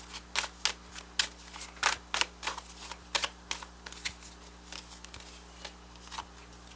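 A rapid series of crisp, flicking snaps from cards being shuffled, in quick irregular bursts close to the microphone.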